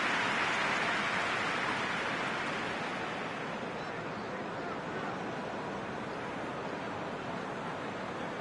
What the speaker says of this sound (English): Just starting to get the first signs of rain here.